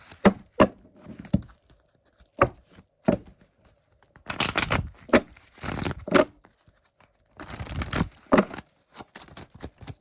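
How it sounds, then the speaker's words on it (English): Crisp bursts of tarot cards being shuffled and riffled, short papery flurries separated by brief pauses, close and fairly loud, with no talking. "So we're just shuffling here in front of you."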